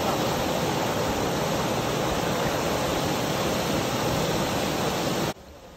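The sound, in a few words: icy waterfall in Szklarska Poręba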